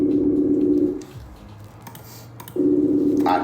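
Telephone busy signal heard while trying to reach someone by phone: repeated loud, steady beeping tones broken by a quiet gap, with no talk during the clip.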